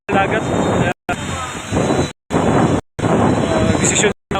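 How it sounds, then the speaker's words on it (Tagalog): Strong wind and heavy rain lash a beach resort in a steady, loud broadband roar that is broken by several brief silent cuts. No speech is heard. "lumakas yung ulan, yung hangin"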